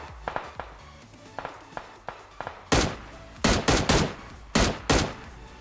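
Gunfire from the Skyline gun in PUBG Mobile, first softer distant-sounding shots in short pairs, then loud close bursts of quick repeated shots in separate clusters.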